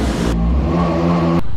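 A new Bajaj Pulsar NS400 motorcycle engine revs loudly up close, a short rising growl that climbs in pitch and then cuts back to idle.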